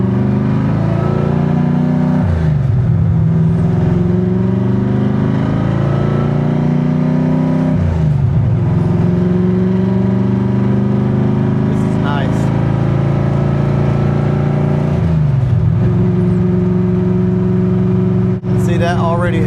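A car engine cruises in fourth gear with a steady, loud drone held throughout, dipping briefly at a few points as the load changes, while someone talks over it.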